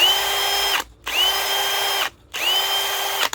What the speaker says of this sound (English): the drill runs fine, but obviously reverts back to being slightly slower